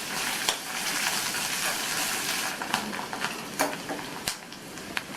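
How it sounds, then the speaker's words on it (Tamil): Onion and garlic sautéing in a pan, a steady broadband sizzle with a few sharp stirring clicks and scrapes, fairly close and with no voices. "இந்த வெங்காயம் பூண்டு ரெண்டுமே 1லேருந்து 2 நிமிஷத்துக்கு வதங்கட்டும்."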